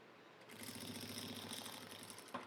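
A sewing machine stitches bias binding along the folded edge of a fabric Bible cover, a steady close mechanical whir with rapid rhythmic needle clatter running for about two seconds and ending with a small click.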